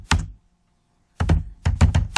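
Computer keyboard typing, a short burst of key taps, a pause, then two more quick clusters of clacking keystrokes, close and clear with no talk.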